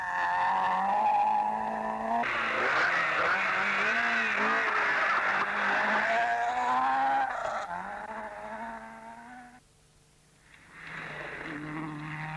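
Citroen Visa Trophée rally car racing and skidding, its engine droning loud and steady with shifting pitch as the car slides, dropping out briefly near the end before another engine note returns.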